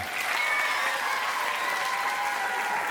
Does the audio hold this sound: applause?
yes